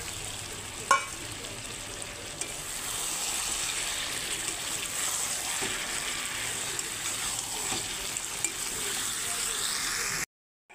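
Potatoes sautéing in chicken kurma masala in a pan: an even, moderately quiet sizzle with stirring, one sharp knock early on, then an abrupt cut to silence at the end.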